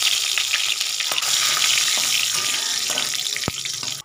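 Whole spices, dried red chilli, bay leaf and cumin seeds crackle and sizzle in hot oil in a kadai, a steady dense frying hiss with a few sharp clinks of a spatula against the pan, no talking.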